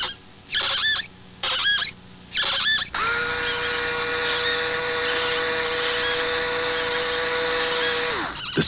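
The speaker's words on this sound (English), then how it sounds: "The Skill Twist cordless power screwdriver." A Skil Twist cordless power screwdriver whirs in three short bursts, then runs in one long steady whine for about five seconds before cutting off, close and loud with no talk.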